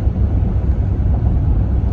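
Steady low roar of freeway traffic rushing past, a continuous broadband rumble of passing cars with no clear gaps, fairly loud and close.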